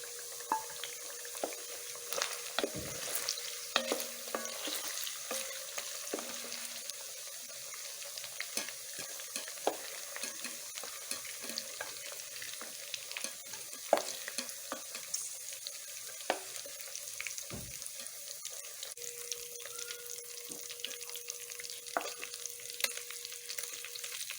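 Beef sizzles and crackles steadily in hot frying oil, with a continuous close hiss broken by irregular pops and faint scraping stirs throughout.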